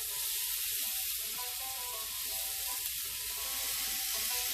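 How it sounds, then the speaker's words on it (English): Steady, loud sizzling of marinated pinchos morunos meat skewers on a hot grill, a continuous crackling hiss with no voices. "I'm just gonna put them right on here on the grill. You hear that sizzle?"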